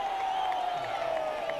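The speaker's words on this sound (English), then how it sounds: "Listen to the crowd." A football crowd at a Frankston FC ground roars steadily at a distance, a continuous broad wash of cheering and applause with a faint whistle-like tone running through it.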